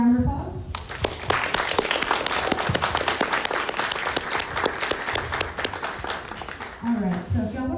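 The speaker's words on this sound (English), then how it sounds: "Can we get one more round of applause?" An audience at an anime industry talk gives a loud, sustained round of applause that fills the room for several seconds, with a voice speaking briefly at the start and end.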